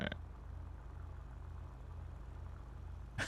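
Steady low engine rumble from a car's exhaust in GTA roleplay, a smooth continuous drone at moderate volume with no talk, ending with a brief bump at the close.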